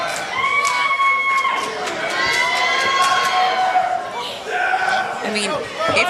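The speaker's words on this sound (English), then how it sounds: "this crowd's loving it. They're loving the NWA World Women's Champions" Wrestling crowd cheering loudly during a women's championship match, a continuous wash of shouts, whistles and chatter with bursts rising and falling, while a commentator talks over it.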